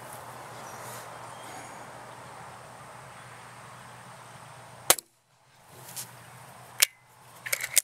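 A Ruger Mark 1 pellet pistol fires at a target, giving sharp isolated cracks: one loud report near the middle, another a couple of seconds later, then a quicker pair at the end, with faint background noise between shots.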